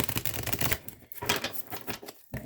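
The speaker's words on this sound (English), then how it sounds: "I'm going to give it a little bit of a more thorough shuffle" A deck of tarot-style reading cards is shuffled by hand in quick irregular bursts of riffling and flapping, close and fairly quiet, with brief pauses between passes.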